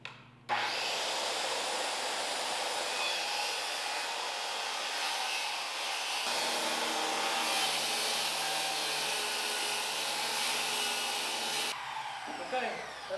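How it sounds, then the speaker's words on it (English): Continuous loud whine of a power saw cutting through plywood laid on a foam board, running steadily for about eleven seconds after a sudden start and then stopping, with no talk over it. "when I cut my plywood down here, I'll cut into the foam, but nothing else."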